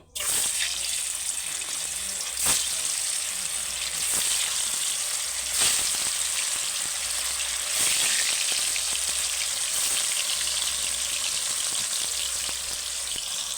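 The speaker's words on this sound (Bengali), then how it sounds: "দেখো বন্ধুরা তেলটা আমার তেতে গেছে এবার মাছগুলো তুলে দেবো" Hot oil sizzles and crackles loudly and steadily as stingray pieces fry, with a few sharper spits and pops along the way.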